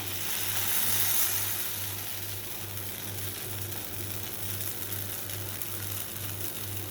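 Malpua batter frying in oil in a pan, a soft, even sizzle that holds steady throughout at moderate distance with a faint pulsing hum beneath and no voices.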